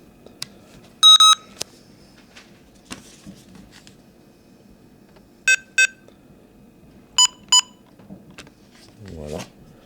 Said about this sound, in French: Il y a une sonnerie spécifique sur les touches retour